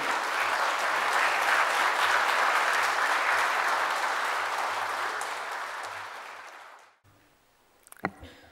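A church congregation claps steadily, the applause swelling and then fading out, followed by a brief quiet and a few small knocks.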